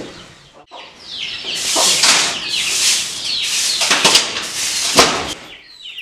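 A flock of Kili Mooku (parrot-beak) chickens at a farm clucks and squawks continuously, close and loud, with busy overlapping calls and occasional bursts of flapping.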